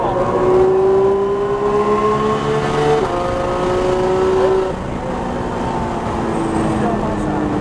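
A manual Toyota Supra accelerates hard at full throttle, its engine note rising steadily and loud and close with a brief dip at a gear change, while a person talks over it.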